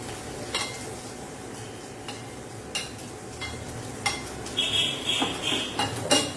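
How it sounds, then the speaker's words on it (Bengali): Crushed ginger-garlic paste hits hot oil while tempering for a pointed gourd dish, giving a steady soft sizzle under frequent metal clinks, spoon scrapes and stirring against the pan. "এর মধ্যে আমি দিয়ে দেবো আদা রসুন যে ছেঁচে রেখেছিলাম"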